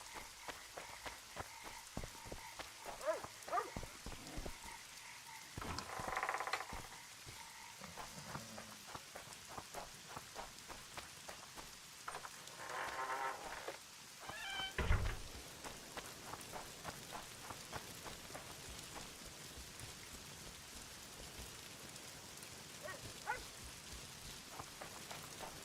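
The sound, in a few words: rain falling in the video game The Witcher 2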